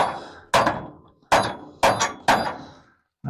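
Hammer blows while mounting a workbench in a shop: five sharp, loud strikes at uneven intervals, each ringing briefly before the next, with no talking.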